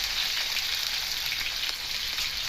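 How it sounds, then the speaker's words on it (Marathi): Tomatoes frying in hot oil for a tomato masala, a steady bright crackling sizzle that fills the clip without pause, close and fairly loud, with no voices. "तेल गरम झाल्यानंतर त्यामध्ये टोमॅटो परतून घ्यायचे"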